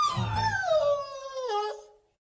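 A lost puppy whimpers with a long, high, falling whine that breaks into a second wavering cry before fading to silence, close and clear with no talking.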